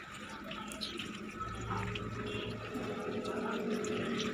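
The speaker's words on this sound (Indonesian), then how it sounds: "Jadi, setelah itu kita membilas tangan." Hands rinsed under a running tap at a sink, a steady close rush of water splashing continuously and growing fuller partway through, with no speech.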